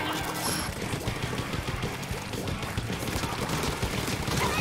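.52 Gal weapon firing in Splatoon 3, a dense run of rapid, punchy shots layered over busy game effects and music, loud and steady throughout with no clear pauses.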